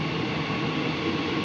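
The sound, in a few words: airport rail link train departing station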